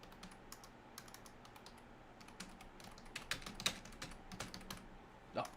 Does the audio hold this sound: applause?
no